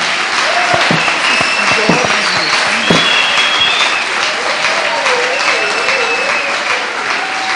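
A church congregation claps in sustained, dense applause, loud and close, with voices calling out over it.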